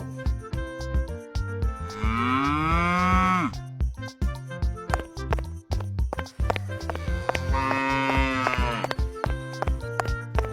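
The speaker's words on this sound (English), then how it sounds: "Cow." Two long, loud cow moos, each a drawn-out bellow with sweeping tone, separated by a stretch of clattering, rhythmic sound, heard up close with no talking.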